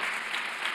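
Church congregation applauding for Jesus during a Sunday sermon, a short burst of dense, steady clapping that fills the room with no voices on top.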